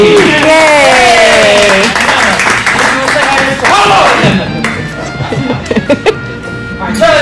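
An audience at a magic theater claps and cheers for Mr. Charlie, with a loud, sustained burst of applause, scattered whoops and laughter. A voice calls out over the crowd, which thins toward the end.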